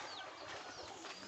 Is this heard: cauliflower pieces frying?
no